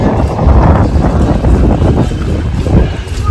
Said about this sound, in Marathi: वारा पण भरपूर मारतो.